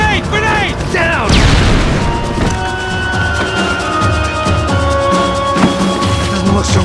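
A grenade goes off in the Max Payne 3 video game, a loud booming blast with a sharp onset and a long rumbling, debris-filled tail, set among ongoing gunfire and action noise.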